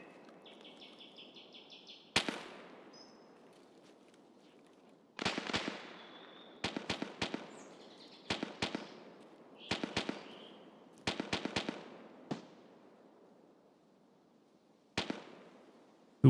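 Distant gunfire in Escape from Tarkov: scattered single shots and rapid bursts crack out over a quiet outdoor backdrop, with faint birdsong in between.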